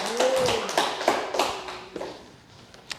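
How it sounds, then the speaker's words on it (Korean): A church congregation claps for God during a fervent Korean worship service, with a few sharp, scattered claps and thumps over fading sung tones. Sparse and moderately near. "하나님 박수."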